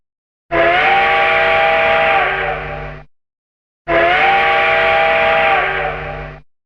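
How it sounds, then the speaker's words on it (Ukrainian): A train horn used as a city evacuation warning signal, giving two long, loud wailing blasts of about two and a half seconds each, separated by a short silence. "Сигнал евакуації з міста. Гудок потяга."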